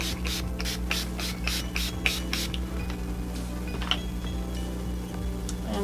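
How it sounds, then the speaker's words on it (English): Urban Decay All Nighter setting spray misted over a finished bridal makeup look: a quick run of about seven short, hissing spritzes close by, then a quieter stretch with faint handling noise. "I used the Urban Decay All Nighter Spray to set this"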